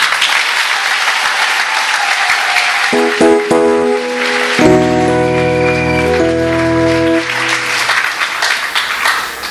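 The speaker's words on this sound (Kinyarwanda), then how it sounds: "Ko numva mudakomeye Imana amashyi." Loud, sustained applause from a large crowd at a church worship service, with musical tones joining partway through as the clapping carries on.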